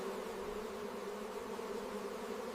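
Dense buzzing of many honeybees in a hive, a steady low drone with a constant whirring hum, close and unbroken, with no voices.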